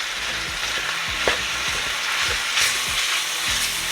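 Ground beef frying in a pan for lasagna, sizzling steadily while a utensil scrapes and breaks up the meat with repeated clicking strokes, close and fairly loud with no talking.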